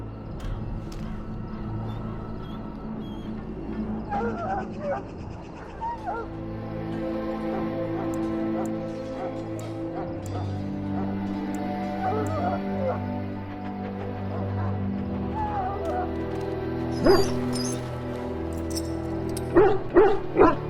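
Dog barking and whimpering in Dragon Age: Origins, a run of soft bow-wow yips and whines over a steady game music bed, with sharper barks near the end.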